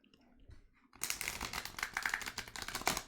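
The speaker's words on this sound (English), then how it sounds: "Look at that supreme shuffle right there." Tarot cards being riffled and shuffled, a dense run of rapid crisp flutters and snaps that starts abruptly after a quiet moment and continues close and loud.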